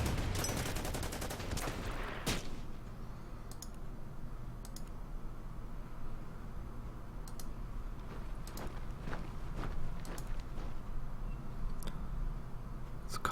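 Gunfire from the Order of Battle strategy war game, Beiping battle: a dense burst of shots opens, then scattered sharp cracks ring out over a steady low battlefield rumble.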